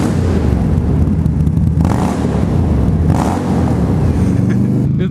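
A loud Indian motorcycle engine idles and revs in a couple of surges, its rumble reverberating inside a garage, with no talking.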